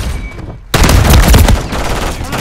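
Loud gunfire in Call of Duty: Modern Warfare 3 erupts after a brief lull, a dense burst of rapid automatic shots and blasts that continues at high intensity through the rest of the moment.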